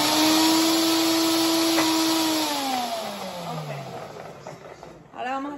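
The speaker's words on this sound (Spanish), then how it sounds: "Porque entre más tú lo licueas, más se va a licuar" A kitchen blender whirs steadily while blending sofrito ingredients, a loud continuous motor drone whose pitch sags as it slows and then winds down, with a brief restart near the end.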